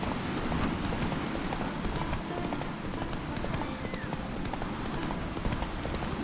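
Hooves of Geralt's horse Roach clip-clop in a steady trot through a busy Witcher 3 game scene, with a whinny and ambient game sounds layered beneath.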